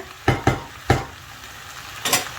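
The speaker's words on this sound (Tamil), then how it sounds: "இதை நல்லா கலந்து விட்டுட்டு" A spoon stirs tomatoes and potatoes frying in a pan for a Chettinad-style tomato side dish, three quick scraping strokes then another after a pause, over a constant low sizzle.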